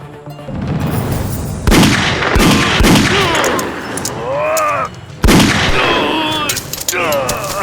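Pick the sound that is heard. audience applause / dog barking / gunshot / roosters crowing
gunshot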